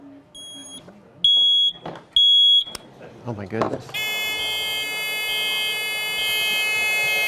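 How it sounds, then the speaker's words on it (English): Electronic beeping Easter eggs made by police ring out in short repeated high-pitched bursts, then turn into a steady continuous tone, with a person's brief exclamation and other voices around. "We're kind of used to beeps like that."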